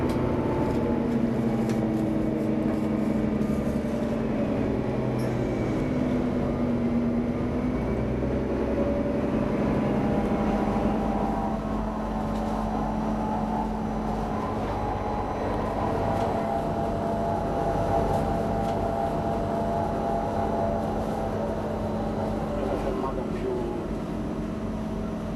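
A loud, continuous rumble of a train running along the Ionian railway in Calabria, Italy, steady engine and wheel noise filling the whole stretch without pause.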